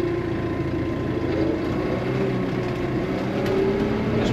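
Kioti RX7330, a Korean tractor of about 75 hp, drives slowly in first gear, and from inside the cab its engine is a steady, muffled low drone with no talk.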